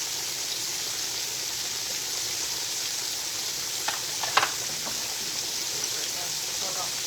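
Pork chops frying in a pan for smothered pork chops, a steady broadband sizzle running throughout with a few brief pops and crackles near the middle, close and even in level, no voices.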